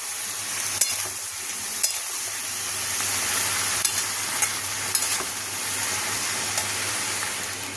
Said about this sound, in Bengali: মশলাটা দিয়ে দেবো। দিয়ে কষাবো, কষিয়ে অল্প জল দেবো।